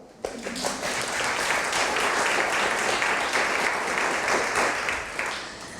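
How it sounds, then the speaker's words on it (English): Audience applause at a talk on the 1811 slave revolt, a dense, loud wash of many hands clapping that starts abruptly and holds steady for several seconds before easing slightly. "You can applaud."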